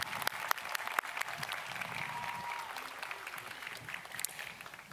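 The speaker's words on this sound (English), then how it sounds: "One more round of applause for our graduate students." Applause for graduate students fills the hall at the UT Southern graduation ceremony, steady and fairly distant, with sharp individual claps standing out from the rest.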